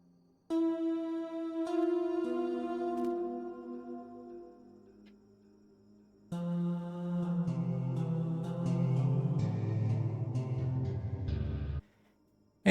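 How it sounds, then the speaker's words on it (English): Notes played on a keyboard triggering an S60 sampler patch through a DAW, sustained tonal chords with a pause in the middle, then a fuller, brighter passage before cutting off near the end, with no talk. "So I'm going to play the S60"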